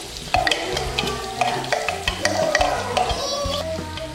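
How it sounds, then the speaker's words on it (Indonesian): Ground coriander being dry-roasted in a pan and stirred, with repeated scraping and tapping of the utensil against the pan over a soft, light sizzle. "yang untuk toppingnya itulah yang disangrai"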